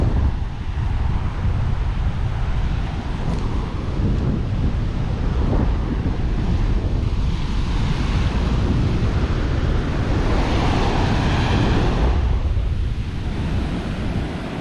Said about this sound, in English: This site is pretty always windy.